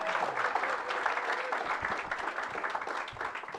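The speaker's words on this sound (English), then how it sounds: "One more round of applause for John, our Turtle MC today." An audience at a turtle conservation awards and annual meeting gives a round of applause, a soft, steady wash of many clapping hands heard from some distance.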